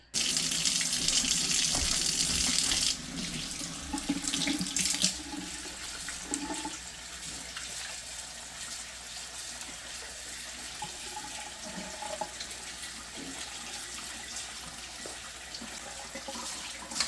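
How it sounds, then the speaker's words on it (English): Tap water runs strongly at first, then eases as beets are scrubbed and rinsed under the stream, with soft splashing and scrubbing continuing throughout. "Otherwise, just scrub and wash them good."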